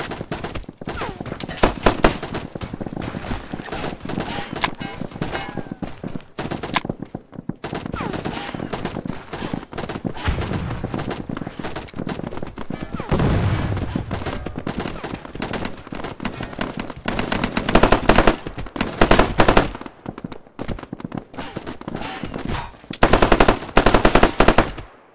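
Intense video game battle with rapid machine gun bursts and scattered gunshots, long rattling volleys broken by brief pauses, loud and close, with occasional shouted voices mixed in.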